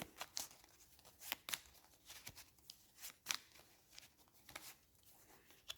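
Clue encounter cards being shuffled by hand for a tabletop horror board game, quiet riffling flicks and soft slaps in irregular bursts, close up and alone.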